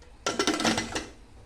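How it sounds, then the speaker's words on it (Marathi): A pressure cooker being set down on a stove, a cluster of sharp metallic clanks and rattles lasting under a second, close and loud. "आता मी कुकर लावून घेते"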